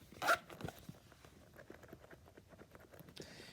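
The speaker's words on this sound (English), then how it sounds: "So let's zip it up" A zipper being drawn closed around a controller carrying case, a quick rasping pull near the start followed by soft handling and rustling of the fabric case, close and fairly quiet.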